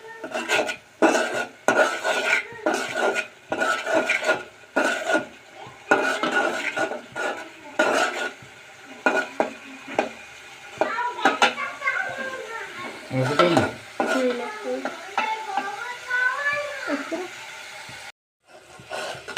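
Spice paste of turmeric and chili powder stirred and fried in a pan: repeated scraping clatters of a metal spoon against the pan over a soft sizzle, close up, with a voice chattering partway through.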